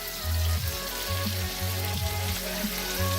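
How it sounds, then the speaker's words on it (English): A sirloin steak sears in a hot pan while being basted with thyme, giving a loud, steady sizzle and fry with recurring low bubbling pulses as the fat is spooned over, continuous and close throughout. "we're going to start basting our steak with some thyme"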